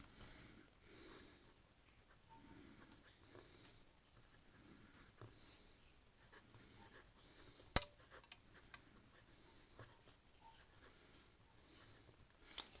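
Nib of a PenBBS 308 fountain pen scratching faintly across paper in a soft, continuous stroke, with a few sharp ticks and taps from the pen or desk near the middle and end.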